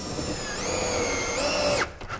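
Cordless power screwdriver driving screws into wooden roof battens on a wall, a steady close whirring drone that rises in pitch partway through, then cuts off abruptly near the end.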